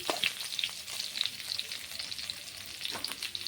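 Pumpkin greens drop into hot oil with sweet potato already cooking, giving a steady crackling sizzle with irregular spitting pops, close and alone without any talk.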